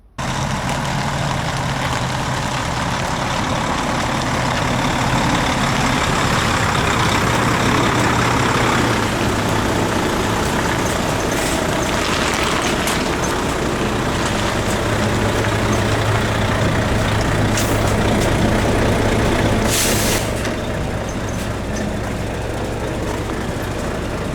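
A Volvo diesel engine in a Renault Magnum truck idles steadily at close range, a loud continuous low rumble with a faint whine, running unchanged throughout.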